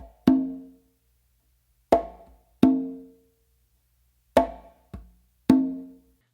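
A conga played with a close slap, a ghost note and an open tone, heard as about six separate hand strikes. Sharp attacks ring out briefly, with pauses between the hits and no speech.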